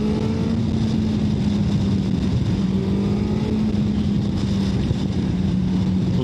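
A Suzuki GSX-S1000GX or Hayabusa motorcycle engine runs close and loud as a steady, humming drone that holds nearly constant pitch throughout, with no voices.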